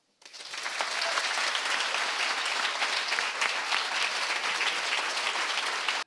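Steady applause from a crowd at an award announcement, rising quickly and holding at an even level for several seconds without speech.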